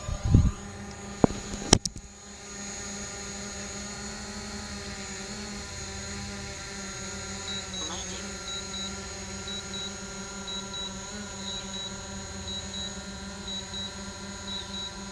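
A DJI Mavic Pro drone hums steadily with a high-pitched motor whine as it flies and comes down in an automatic landing. A few sharp beeps and clicks come first, then an even, continuous drone with no talk.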